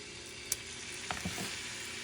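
Pork sizzles in a tablespoon or two of extra virgin olive oil in a cast iron pan over medium-high heat: a quiet, steady frying hiss broken by a few sharp clicks and a soft clatter.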